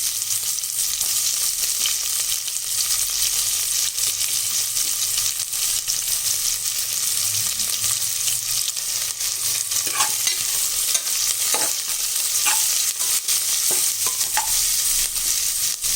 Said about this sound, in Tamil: இந்த வெங்காயம் நல்லா வதங்கிறதுக்கு கொஞ்சம் சால்ட்டு போட்டு வதக்கலாம்